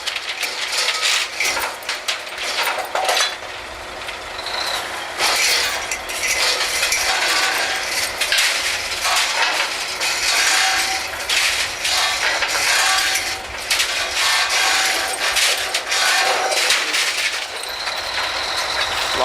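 Metal clanking and ratcheting on a drilling rig as drill pipe is tightened, with steady engine drone underneath and repeated sharp clinks throughout, no voices.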